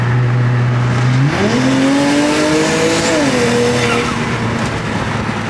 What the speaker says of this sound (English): I'm gonna just floor it.